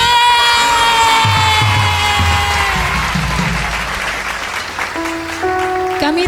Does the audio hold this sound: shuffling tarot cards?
no